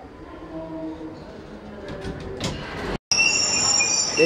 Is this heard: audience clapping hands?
no